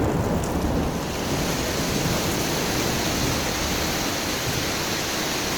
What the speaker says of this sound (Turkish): Ama yağmurda mahsur kaldık.